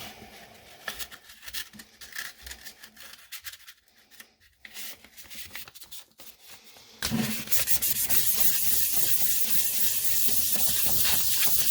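Hand sanding a 1966 GMC headlight bezel with 400 grit sandpaper, close, irregular scratchy rubbing strokes at first, then a loud continuous harsh rasp of steady sanding.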